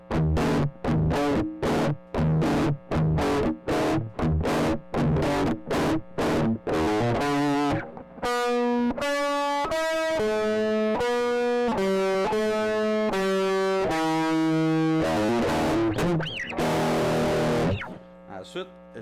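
An electric guitar runs through a Morpher distortion pedal combined with a second gritty pedal, first chugging out rapid choppy palm-muted chords, then sustained distorted notes and bends, loud and close with no voices.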